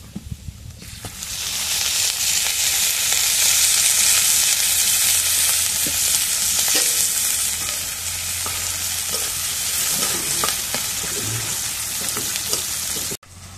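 Green chilies and onions frying in hot oil in a home kitchen, a loud, steady sizzle with crackling spatters and occasional stirring scrapes, close up and uninterrupted by talk.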